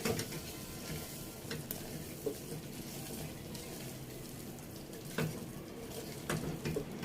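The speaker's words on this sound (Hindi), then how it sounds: "अगर एक मीडियम चम्मच धनिया पाउडर मिक्स करूंगी इसे अच्छे से" Minced beef for kheema being stirred with coriander powder and spices in a pan, a steady low sizzle with scraping stir strokes and a few sharper clinks, close and moderately quiet, no talking.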